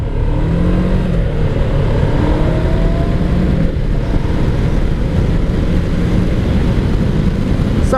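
A 1991 Kawasaki Ninja EX500 motorcycle is ridden on a cold day, its engine droning loud and steady from the rider's position alongside constant wind rush.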